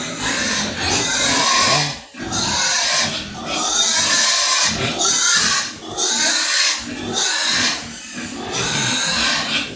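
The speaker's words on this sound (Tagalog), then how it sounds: "Okay, ito na ang ating mga bagong biik." Newly bought piglets grunt and squeal in quick repeated bursts, loud and close, with short pauses between the calls and some rustling and scraping mixed in.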